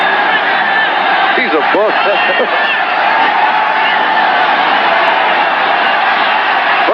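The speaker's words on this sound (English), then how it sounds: "Listen to this crowd." Dense, loud roar of a football stadium crowd cheering a quarterback sack by the 1981-82 New York Jets defense, a sustained wall of cheers and whoops under a broadcaster's voice.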